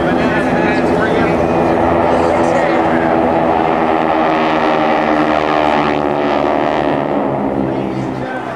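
GEICO Skytypers aircraft roar past in a banana pass at the 2008 Jones Beach Airshow, a loud, continuous propeller-engine drone that stays close and powerful, easing only slightly at the end.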